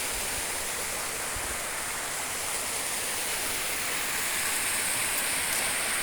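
Waterfall set between two mountains in a forested area, a steady, loud broadband rush of falling water filling the whole stretch without voices.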